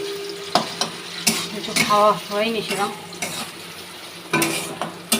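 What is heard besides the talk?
frying potatoes in a pan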